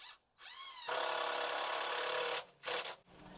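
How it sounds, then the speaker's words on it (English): A power drill drives screws into wet lumber boards fastened to a backer board: a short rising whine, then a steady high-pitched buzz for over a second, followed by a brief final burst, all close and loud. "I'm going to put 2 screws in each board into the backer board."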